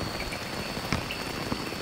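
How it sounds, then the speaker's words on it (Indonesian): Rain falls steadily outside a tent at a solo campsite in Kalimantan, a dense, close patter of drops on the fabric with a few slightly louder individual hits. "jadi aku cuma bisa dalam tenda berteduh dan gak bisa ngapa-ngapain karena di luar hujan"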